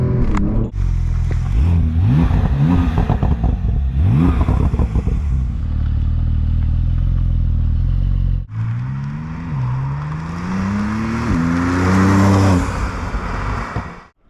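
A Techart-tuned Porsche 911 Turbo S (992, 710 hp) launches hard under launch control, its engine surging and rising through gears with a brief break between shifts, loud, close and sustained throughout, with no talking.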